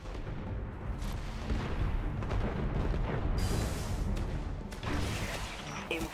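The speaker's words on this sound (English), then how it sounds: "Scorch cannon. Powerful and very rare indeed." A scorch cannon fires in the Destiny video game, producing heavy booming blasts and crashing impacts over a dense, noisy game soundscape, with a sharp bright burst in the middle.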